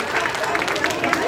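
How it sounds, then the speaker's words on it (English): Applause and cheering from an audience at a school Grandparents Day celebration, honoring teachers and grandparents; steady clapping mixed with crowd murmur throughout, fairly loud and continuous. "let's give a big round of applause for the teachers and the grandparents"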